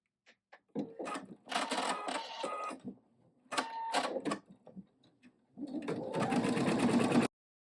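An embroidery machine runs the tack down stitch on flower fabric for an in-the-hoop mug rug, whirring and clattering in several close, uneven bursts separated by short pauses.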